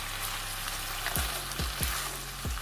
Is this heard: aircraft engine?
no